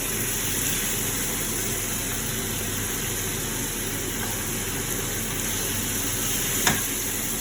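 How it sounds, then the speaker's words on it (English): Butter sizzles steadily in a frying pan as lemon caramelises, a continuous close hiss with a single sharp crackle near the end and no talking. "So what I want is to just add a little bit of butter to the pan. Now we're going to turn it over."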